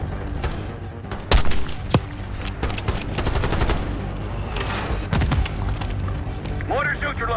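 Gunfire in the Call of Duty: Black Ops 6 campaign, a steady crackle of automatic shots and a few louder bangs during a fight against mortar teams, with voices talking throughout.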